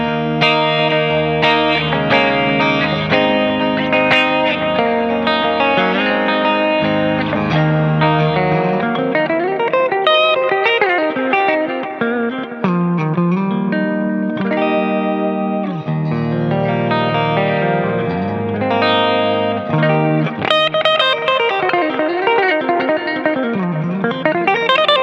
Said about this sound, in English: Here's both humbuckers together on that same clean sound.